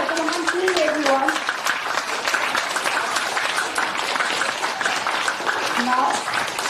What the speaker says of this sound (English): look at the person next to you and clap harder than the person next to you is clapping